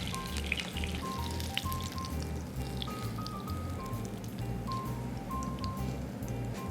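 Trout pan frying in a hot pan, giving a steady, close crackling sizzle with scattered pops that runs throughout without talk.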